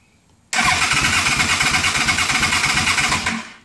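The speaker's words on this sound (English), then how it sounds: "The bike will turn over all day long, but it never will fire." The engine of a 2006 Yamaha Royal Star Tour Deluxe motorcycle with an ignition fault cranks over steadily and loudly without firing, a continuous churning drone that runs for about three seconds and then stops.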